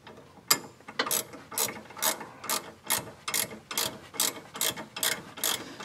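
A wrench ratchets while bolts are tightened on a bypass oil filter mount for a 2005-2018 Dodge Ram 2500 heavy-duty truck. About a dozen sharp, close clicking bursts repeat in a steady rhythm, with no talk over them.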